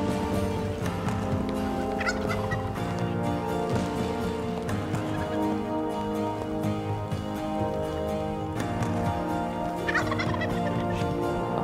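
Wild turkeys gobbling in South Dakota, repeated loud rattling gobbles from several birds close by, overlapping in a near-continuous chorus with no talk.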